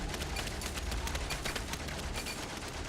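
Rapid bursts of World War I gunfire crackle through a trench battle in Valiant Hearts: The Great War, dense and continuous, with overlapping shots against a rumbling background.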